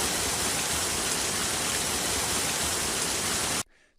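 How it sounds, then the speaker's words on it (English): Heavy rain pours down in windward Oahu, Kaneohe, as a loud, dense, steady hiss that cuts off abruptly near the end. "Heavy rains flooded homes and businesses in windward Oahu today."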